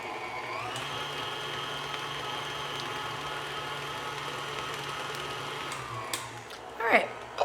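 An electric stand mixer running on low while making turtle cheesecake, a steady motor whine with a constant pitch that holds for several seconds, then shifts near the end as clattering and a brief voice come in.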